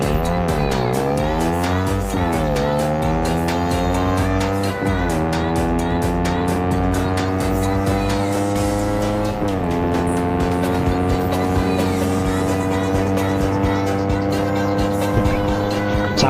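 A motorcycle with an upgraded throttle body revs hard through several gear changes, its engine tone climbing, dropping briefly at each shift and climbing again, loud and close throughout.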